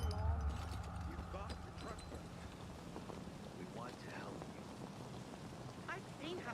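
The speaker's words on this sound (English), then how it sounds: "Damn rain." Steady rain patters across the whole scene in the video game Dying Light 2, a soft, even hiss with scattered drops, while a voice talks faintly underneath.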